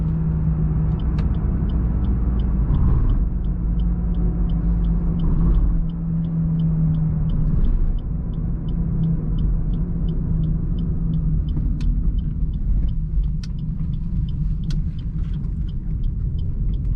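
A Maruti Baleno 1.2 drives in second gear on Karnataka roads, heard from inside the cabin. The engine hum and road rumble stay steady, with a pitch change as it pulls, and a faint ticking indicator repeats throughout.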